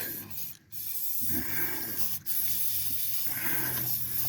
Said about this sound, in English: Oh, them are some rusty, crusty ones. Let's spray them.